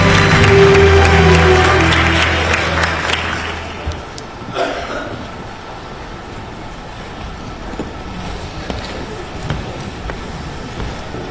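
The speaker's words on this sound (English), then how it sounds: "Please welcome President Boric with a strong round of applause." A round of applause welcoming Chilean President Gabriel Boric at the APEC CEO Summit in Gyeongju, loud clapping at first that fades after a few seconds into a quieter hall murmur with occasional thumps.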